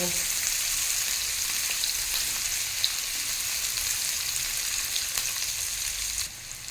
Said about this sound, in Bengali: দিয়ে দেবো সমস্ত পেঁয়াজ কুচি পেঁয়াজের কাঁচা ভাব যাওয়া পর্যন্ত পেঁয়াজটাকে ভেজে নেব